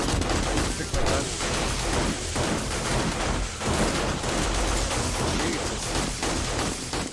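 Dense, sustained gunfire in the survival zombie game 7 Days To Die during a horde night, rapid overlapping shots filling the whole stretch at steady loudness, with a voice exclaiming briefly over the noise.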